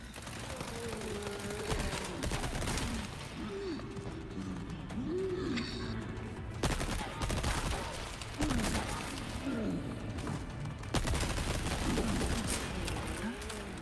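Rapid automatic gunfire in Resident Evil 4 Remake, the Separate Ways DLC, rattling as a dense, steady stream of bursts with game sounds, while people talk over it throughout.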